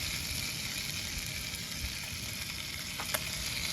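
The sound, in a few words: hot dogs sizzling in a pan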